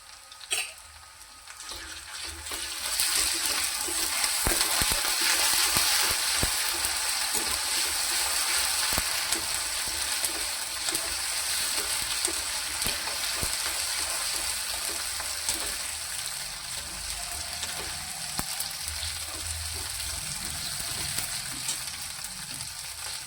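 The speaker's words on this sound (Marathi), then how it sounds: "अद्रक लसूण पेस्ट टाकणार थोडासा" Ginger garlic paste hits a hot frying pan with curry leaves, bursting into a loud steady sizzle that holds for over twenty seconds, crackling with small pops and occasional stirring.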